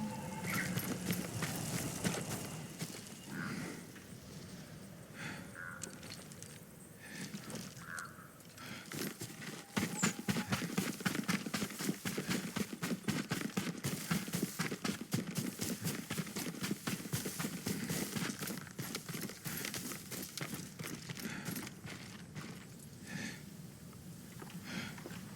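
A horse in the video game Ghost of Tsushima moves steadily, hooves clip-clopping in a quick, continuous rhythm with occasional snorts and breaths, close and moderately loud throughout.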